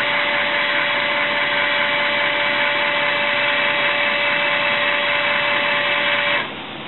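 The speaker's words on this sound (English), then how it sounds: "Then you will move the hot to terminal 5, and the valve will move to the fourth position." An electric actuator drives a 5-way ball valve to a new position, giving a steady motor hum and whir at close range that runs evenly, then cuts off abruptly near the end, leaving quieter background.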